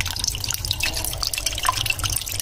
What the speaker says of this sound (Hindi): इसके अंदर मैं ऐड करूँगी पानी